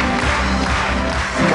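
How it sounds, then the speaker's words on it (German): A circus audience applauds and cheers after a horse act with Arabian horses in the ring, a dense, continuous wash of clapping and crowd noise filling the whole moment. "Verdienter Applaus für die Profis."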